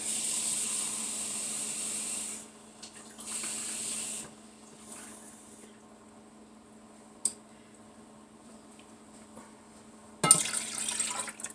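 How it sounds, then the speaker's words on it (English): Vinegar and water being poured for pickles: a hissing, splashing pour for about two seconds, a second pour shortly after, then quieter handling and a sharp clink with another brief splash near the end. "I have a cup of vinegar, and I'm going to also add a cup of water."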